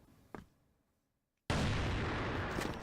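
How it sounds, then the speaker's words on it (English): A grenade explodes in the CrossFire shooter game: a faint click, a short hush, then a sudden loud, broad blast that roars on for over a second. "That nade will not reach him."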